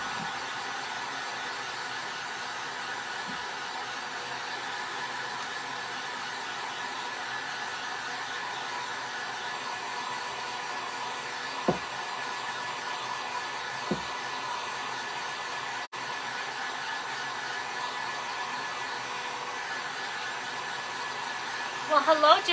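A hair dryer runs steadily at close range, blowing to dry paint on a mason jar, a continuous even whoosh with a few faint clicks and knocks near the end.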